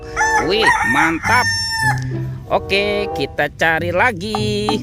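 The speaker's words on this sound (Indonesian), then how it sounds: "Yang ini ada ayam berkokok." Electronic rooster crowing from a children's toy, loud and close, with repeated crowing calls and clucks mixed with an excited voice talking over and between them.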